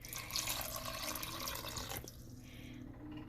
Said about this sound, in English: I'm gonna add in a little bit of, this is boiled and filtered water